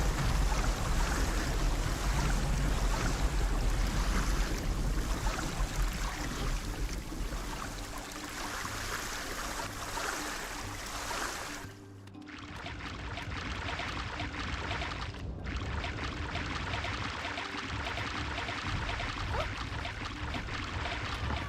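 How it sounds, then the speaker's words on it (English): Water sound effects in the Kaku Ancient Seal video game: a steady rushing, pouring flow of water with wave-like wash, continuous and fairly loud, briefly dipping midway, with no talk. "Oh yay, the water sound effects."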